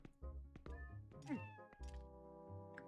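Cartoonish cat meows from a village in Zelda: Twilight Princess, several calls close together, one long drawn-out meow in the middle, set over a steady musical background.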